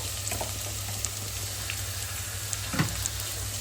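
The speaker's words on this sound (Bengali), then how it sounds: "চিতল মাছ খুব বেশি ভাজতে যাওয়া যাবে না, কারণ হচ্ছে যে তাহলে এটা হার্ড হয়ে যাবে।" Chitol fish coated in turmeric frying lightly in a pan, a soft steady sizzle with faint scattered crackles and a small stir near the end, no talking.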